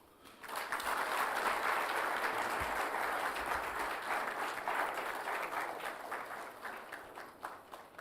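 A large audience applauds for the President at a judges' swearing-in ceremony, a dense, sustained round of clapping that rises quickly, holds steady, then begins to thin near the end; fairly distant and soft overall.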